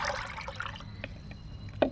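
Water trickles and splashes while used tea leaves are rinsed, a soft, steady pour with a few faint drips and a sharper splash at the end, quiet and close.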